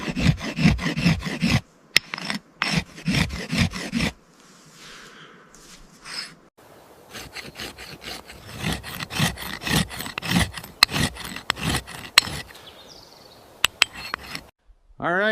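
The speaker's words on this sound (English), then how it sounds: "Just sharpening up my trusty axe" An axe is sharpened on a flat stone in the forest with repeated rhythmic rasping strokes in bursts, close and crisp, pausing between sets.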